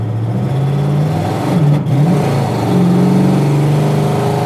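A 1966 Pontiac GTO engine idles steadily, a low continuous rumble with a slight exhaust leak, loud and close with small shifts in pitch and no talking.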